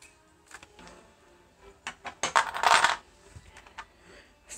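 Small plastic counting blocks for a primary math lesson are handled and clattered together close up. Scattered clicks build into a dense rattling burst in the middle, then fade back to a few light knocks, with no voice.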